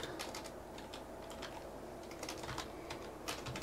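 Someone types on a computer keyboard, producing quick irregular bursts of clicking keys, close and fairly quiet, with no talk.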